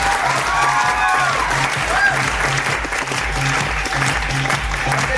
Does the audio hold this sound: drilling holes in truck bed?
no